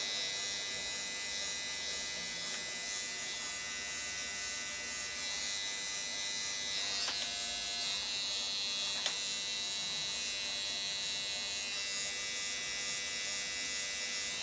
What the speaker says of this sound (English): I just felt like shaving my head.